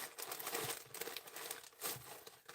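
Crinkly plastic Christmas bag being rummaged through by hand while searching for jewelry, with close, continuous rustling and crumpling in uneven bursts, fairly quiet.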